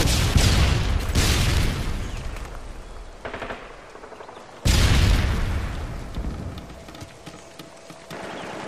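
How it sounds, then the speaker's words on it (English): A stun grenade in Modern Warfare 2 Search and Destroy on Wasteland goes off amid loud gunfire, with two sharp bursts roughly four seconds apart, each followed by a decaying roar and scattered shots. "Бросаю стан гранату."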